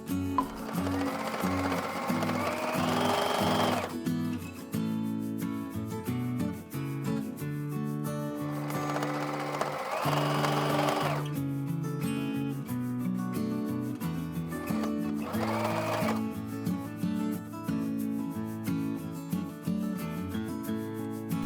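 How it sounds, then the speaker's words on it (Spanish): A sewing machine stitches around the edges of a fabric bag pocket in steady runs of motor hum and needle chatter. Short bursts of faster sewing break up the work, and the machine plays alone. "Cosemos por los bordes para cerrar el bolsillo."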